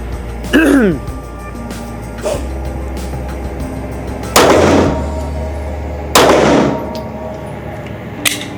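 A Ruger RXM pistol fires 147 grain subsonic rounds, giving several loud, sharp reports at uneven intervals, close by and echoing, with speech in between.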